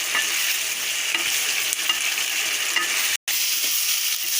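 Banana flower curry being stirred in a pan to cook off the water, a continuous loud sizzle with faint scraping of the stirring, one brief cut of silence, no talking.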